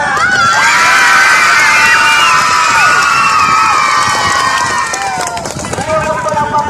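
A large crowd at a school event cheers and shouts loudly, with children's voices rising above a dense, continuous roar that eases slightly toward the end.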